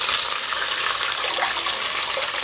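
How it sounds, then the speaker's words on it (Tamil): Tamarind water being poured into a pan of drumstick leaf rasam, a steady close splashing gush of liquid that runs without a break. "இப்போ நம்ம கரைச்சி வச்ச புளி தண்ணி, அரைச்சி வச்ச மசாலா எல்லாத்தையுமே இப்போ இது கூட சேர்த்திடலாங்க"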